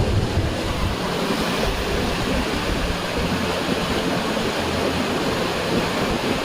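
River water rushes steadily in a loud, broad roar, continuous and close, mixed with some wind buffeting and no voices.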